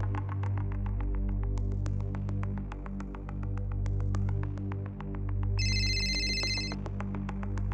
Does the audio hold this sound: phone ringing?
yes